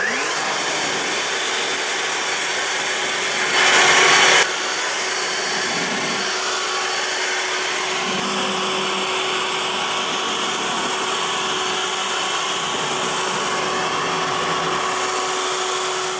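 A steady, loud leaf blower drying a car at a self-service car wash roars continuously with a constant high whine, a brief burst of extra hiss partway through, no voices.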